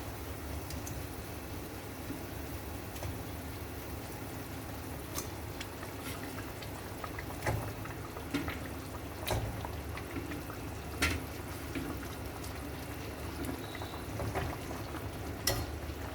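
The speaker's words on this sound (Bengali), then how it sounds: "ঝোলটা ফুটে গেছে, আমি এবার মাছগুলো ছেড়ে দিচ্ছি।" Pomfret pieces slide into a boiling mustard and poppy seed gravy, which gives a steady, busy bubbling and simmering hiss with a few faint clicks, and no voices.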